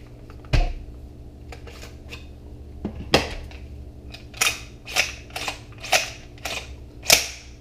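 Bushmaster BR-308 rifle action being cleared and safety-checked, with a series of sharp metallic clacks and snaps, one hard knock early and a run of crisp clicks in the latter half, close and loud.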